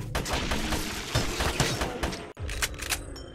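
Rapid pistol gunfire from the sci-fi survival game GRAV, shots cracking in a dense, steady run with a brief cut near the end before more shots follow.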